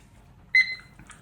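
A single short electronic timer beep, clear and close in a quiet room, set while art resin is being mixed in a cup.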